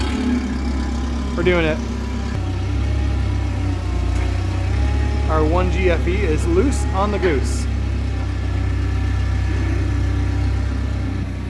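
A forklift engine idling steadily, a low continuous rumble beneath several people talking nearby, with no strong revving.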